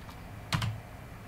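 A pair of quick computer keyboard keystrokes, entering a name into a URL in a CodeIgniter PHP tutorial, sounds close and faint against a quiet room.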